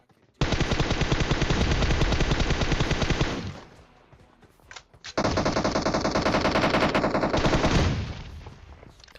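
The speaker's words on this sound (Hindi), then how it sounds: "यहाँ पे नेड और गोलियां दबा के की जा रही है" Heavy automatic gunfire and explosions from a PUBG Mobile battle between two teams, two long dense bursts of rapid shooting, loud and close, separated by a brief quieter gap with scattered shots.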